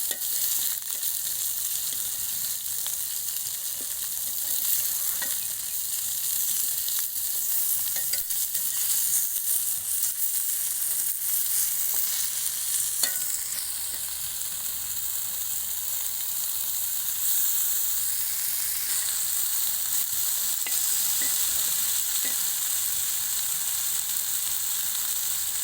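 River catfish frying in ghee in a pan, a steady, continuous sizzle and crackle with faint stirring or turning noises, close and alone without talk throughout.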